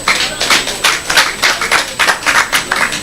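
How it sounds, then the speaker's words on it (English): A small audience at a launch event claps in a round of applause. Distinct individual claps come in quick uneven bursts, close and fairly loud, with no talking over them. "So can we give a round of applause for all of them?"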